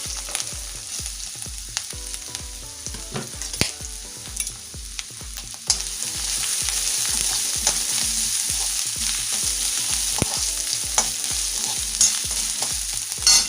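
Ginger pieces fry in three spoons of hot ghee with a steady, close sizzle, later joined by cumin seeds, as the crackle grows denser and louder partway through under rhythmic low tapping.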